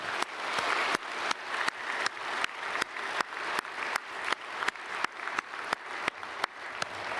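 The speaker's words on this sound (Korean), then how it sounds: "우리 찬양대 찬양 큰 은혜 받았습니다. 박수하겠습니다." A church congregation at a Christmas service applauds the choir after its Hallelujah, a steady, dense wash of many hands clapping, moderately distant, with faint regular accents throughout.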